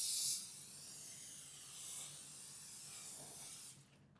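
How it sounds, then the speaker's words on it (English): Cooking spray hissing from an aerosol can into a large lasagna casserole dish, one long continuous spray lasting close to four seconds, close and soft, then cutting off abruptly, with no voices. "I'm going to spray it for easy cleanup."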